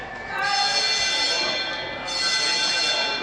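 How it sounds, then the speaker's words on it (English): A film set penalty bell rings in a sustained, bright, metallic tone, cutting out briefly and then starting again, loud and close, with a voice talking faintly underneath. "this kind of sounds like the penalty bell. So everybody knows to drop the work"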